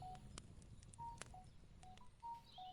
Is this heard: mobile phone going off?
yes